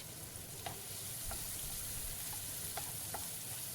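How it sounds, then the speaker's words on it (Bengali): Chopped onion goes into minced garlic frying in oil in a pan, giving a steady close sizzle with a few faint clinks of stirring and no talk. "রসুনটা একটু ভাজা হয়ে গেলেই দিয়ে দেব একটা মিডিয়াম সাইজের কুচিয়ে রাখা পেঁয়াজ"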